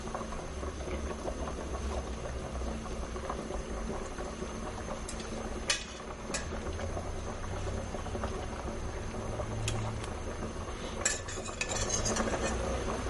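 Beef bubbles and simmers in a pan while a utensil stirs it, with soft scraping and occasional clinks of metal against the pan, close and fairly quiet, with no talking.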